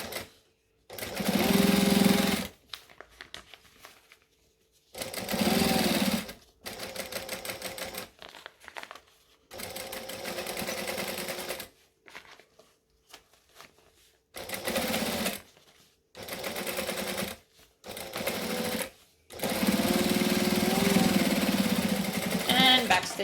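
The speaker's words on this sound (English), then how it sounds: "I'm just going to top stitch along here" Sewing machine top stitching a fabric panel in short bursts, each run a close, rapid whirring chatter lasting a second or a few, separated by quiet pauses while the work is adjusted.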